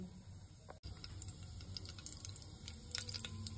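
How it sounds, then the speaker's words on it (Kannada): Spices and bay leaves fry in a pan for a mushroom pulao, giving a steady, close crackling sizzle with scattered pops and no voices over it. "ಈಗ ಕೇಳ್ಸಾತಿರ್ಬೋದು ನಿಮ್ಗೆ ಚಟಪಟ ಸೌಂಡ್."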